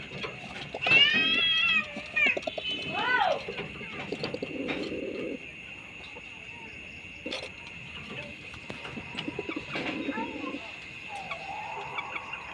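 Coloured Rajgolla pigeons cooing close by in repeated soft phrases, several overlapping calls rising and falling over a faint steady background hum, with no talking.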